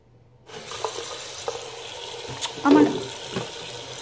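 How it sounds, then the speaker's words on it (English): Water from a sink faucet gushes on after a half-second of silence and runs steadily while a bottle is filled, a louder splash midway, with a brief exclamation spoken over it. "Turn on the sink."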